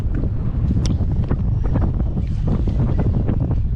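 Strong wind buffets the microphone in a constant loud roar over the open Mediterranean, heard from an inflatable boat with its motor stopped, with no voices and a steady rush throughout.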